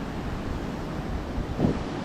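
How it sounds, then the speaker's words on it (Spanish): Sea water sloshing and slapping beneath the San Blas pier on the Nayarit coast of Mexico, a steady broadband wash of surf with wind noise and one slightly louder splash near the end, no voices. "mira cómo golpea el agua abajo del muelle"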